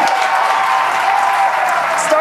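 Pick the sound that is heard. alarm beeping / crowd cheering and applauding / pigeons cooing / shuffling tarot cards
crowd cheering and applauding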